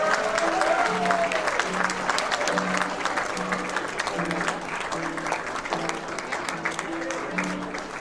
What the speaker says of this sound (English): A round of applause for the faculty of RKYHS.